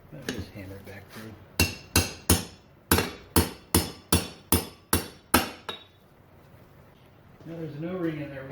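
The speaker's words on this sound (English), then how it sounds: "Just hammer it back through." Sharp metal hammer blows, about a dozen in a steady rhythm, drive a shift rod back through the gearcase of a 1958 Johnson 10 HP outboard, followed by a quiet pause and then someone talking.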